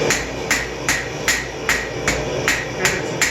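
A hammer strikes a knife tip being forged over the edge of an anvil, with about nine sharp metallic blows in a steady rhythm, loud and close with no talking.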